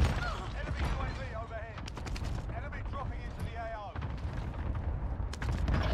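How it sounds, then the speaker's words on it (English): Call of Duty Warzone battle with rapid bursts of gunfire and grenade blasts, loud and near, over a dense mix of game voices and player chatter throughout. "This kid shooting. Throwing grenades."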